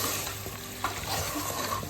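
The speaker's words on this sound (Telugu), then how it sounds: "దీని అయితే మంచిగా కలుపుకోవాలి." Mutton paya curry is stirred in a pot, giving a steady wet scraping and sizzling texture that stays loud and close throughout, with no voices.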